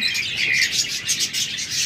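Pet birds for sale, budgerigars, cockatiels, lovebirds and diamond doves, chirp and tweet together in a dense, continuous, high twittering chorus, close and fairly loud, with no talking.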